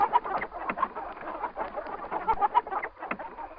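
A hen clucks repeatedly in short, choppy bursts, close by, with other bird chatter mixed in around it.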